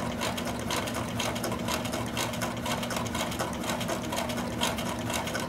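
A sewing machine stitches a seam on an old towel being made into a dish drying mat, a steady, continuous close hum of rapid needle strokes with no pauses or talk.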